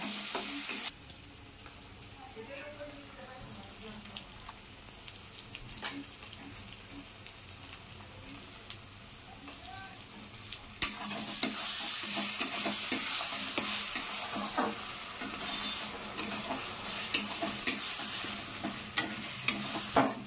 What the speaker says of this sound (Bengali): তো বন্ধুরা মশলাটা কষানো হয়ে গেছে, দেখতেই পাচ্ছ তেল ছেড়ে এসেছে।